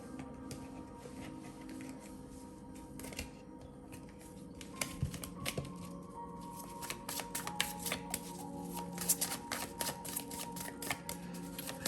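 A Steampunk Tarot deck is shuffled up close: quiet, papery card slides build into rapid, irregular riffling clicks and snaps that grow busier toward the end, with no one talking.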